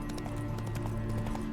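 A horse's hooves clop in a steady, quick rhythm within a video game, over a constant low hum of game music and ambience.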